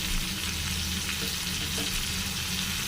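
Potato and capsicum curry fries loudly in a pan while being stirred, a dense continuous sizzle with faint scraping, close and without talk.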